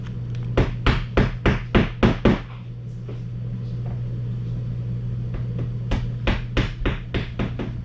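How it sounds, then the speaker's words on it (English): Two bursts of sharp hammer blows on wood, about six quick strikes each, separated by a pause, over a steady low hum, as shortened pieces are hammered into wood during a castle repair. "Now they're a little shorter and I can hammer them right in."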